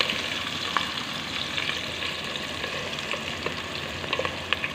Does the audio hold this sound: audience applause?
no